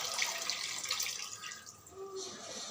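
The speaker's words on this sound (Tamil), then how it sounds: "தண்ணி சேர்த்துக்கிறேன்" Water pours steadily into a pot of mutton biryani, a continuous splashing stream that shifts in tone as it fills, with faint background noise.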